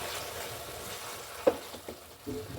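Masala paste, ground for a Karnataka-style chitranna with field-bean lentils, fries in a pan with a steady soft sizzle, a clearer pop and a stir or two, close and fairly quiet with no one talking.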